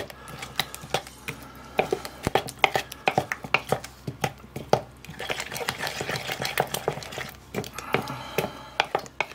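Apple fritter batter with yogurt is stirred in a bowl: steady rhythmic scrapes and light clinks of the utensil against the sides, close and moderately loud.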